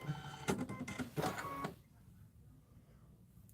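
A Kimberbell embroidery machine stitches out a holiday rope bowl design in the hoop, a loud rapid mechanical whirring for under two seconds that then stops, leaving faint room noise.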